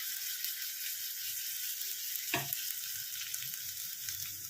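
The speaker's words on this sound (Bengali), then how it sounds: "একটু রসুন ক্রাশ করাই ছিল আমার, দিয়ে রসুনটাকে আমি লাল করে করে ভেজে নেবো একদম।" Crushed garlic frying in a pan, a steady soft sizzle with one brief scrape or stir near the middle, close but quiet, no talking.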